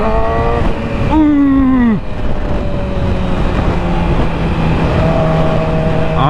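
A loud motorcycle engine revs up and drops in pitch as gears shift down, with a rushing roar of wind and road noise throughout.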